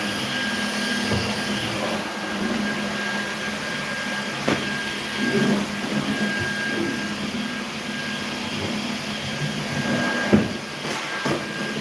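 A vacuum cleaner runs steadily throughout with a constant whine and broad roar, with a few faint bumps and knocks along the way.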